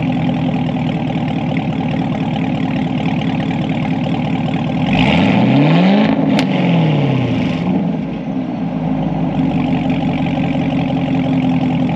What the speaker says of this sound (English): I'll open the valves up and then we'll get a few more revs